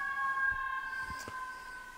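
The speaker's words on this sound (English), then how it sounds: "with sirens in the background" An emergency siren wails in the background as a steady, moderately faint tonal howl that holds through the whole stretch, with a few soft low thumps nearby.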